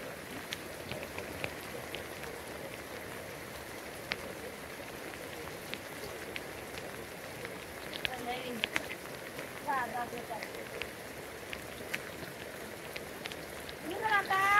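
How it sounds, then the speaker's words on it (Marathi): Steady heavy village rain pours down, a dense hiss of drops on surfaces throughout, with faint voices and a few brief sounds near the end. "पाऊस अजूनच मोठा आला."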